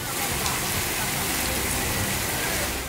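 Heavy rain makes a dense, constant roar of water with no gaps. It fills the whole stretch at a steady level.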